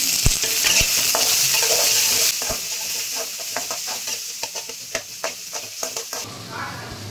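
Garlic and onion sizzle loudly in a pan, then give way to a run of sharp stirring clicks and scrapes against the pan.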